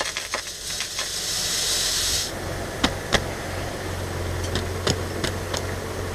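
Granular ammonium sulphate fertilizer pours from a sack into a spreader before application on rapeseed. A steady rushing hiss lasts about two seconds, then scattered sharp clicks and ticks follow over a low background hum.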